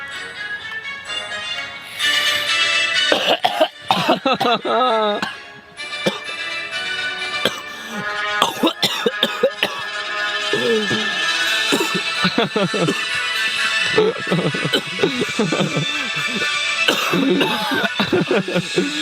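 Repeated harsh coughs from vaping an e-cigarette break up a stretch of loud music with a beat, mixed with people talking nearby.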